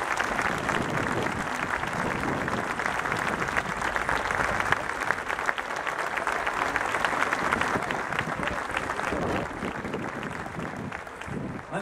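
A large crowd applauds an honoree at a night of traditions in La Laguna, a dense, loud, sustained roar of clapping running steadily for about twelve seconds.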